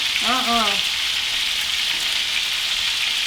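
Italian meatballs browning in a hot pan, giving a steady loud sizzle and crackle the whole way through, with a brief voice near the start.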